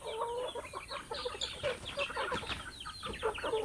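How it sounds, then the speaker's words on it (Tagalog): Chickens clucking busily while being fed on a farm, a dense, close chorus of overlapping clucks and squawks with no pauses. "Yan na mahog na po si Bintoy sa manok."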